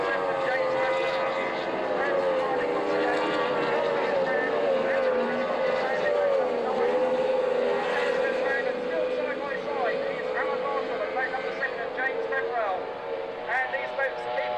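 Formula 2 powerboats race on water at Fairford in 1994, their engines a continuous droning whine with shifting pitch as boats pass and leave the water, under steady commentary.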